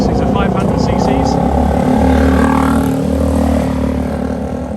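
Two Southern Honda 500 cc racing motorcycles head out onto the track at Road Atlanta, their engines droning and revving loud and close, with a voice talking over them.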